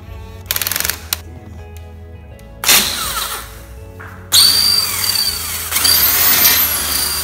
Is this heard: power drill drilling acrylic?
yes